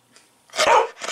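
A French bulldog snarls at another dog over food, a short close growl-bark burst that swells loud, pauses briefly, then rises again.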